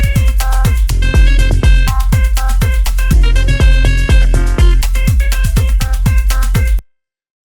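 A bright synth lead melody over punchy, evenly spaced bass and drum hits, loud and steady, cutting off abruptly near the end.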